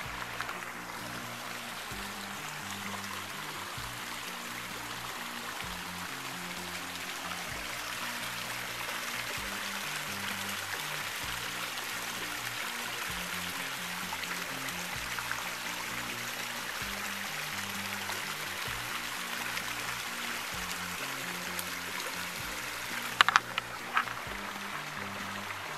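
The Sweetwater River flows with a steady, broad rush of water, continuous and moderately near, with a few small knocks near the end and no voices.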